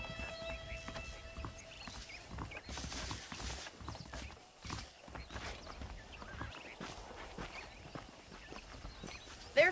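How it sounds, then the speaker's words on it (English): Saddled horses walking in the Red Dead Redemption video game on a farm, soft rhythmic hoof clip-clop steps at a quiet level, with faint background ambience and no talking. "The horses are saddled up over here."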